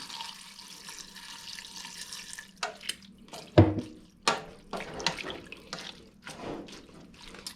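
Water poured into a pot of vegan greens in a home kitchen, starting as a steady low stream, then breaking into splashy, uneven pours and drips close by.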